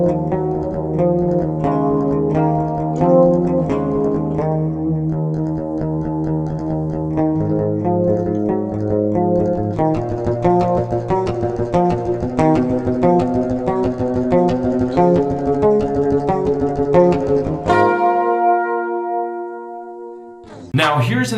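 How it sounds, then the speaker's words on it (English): A metal riff is played on an electric guitar with a clean, undistorted tone, the picked palm-muted notes steady and close, then a final chord rings out and fades before a brief strum. "Now here's how I play the exact same riff but on a clean tone."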